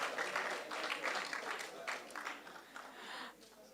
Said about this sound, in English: A hand of applause for him,